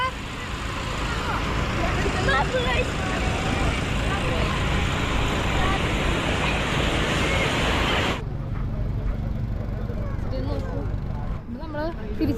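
Sea waves at Kozhikode beach at night form a broad, continuous roaring wash mixed with wind buffeting and the murmur of people talking nearby; the surf noise drops away sharply partway through, leaving quieter voices and ambience.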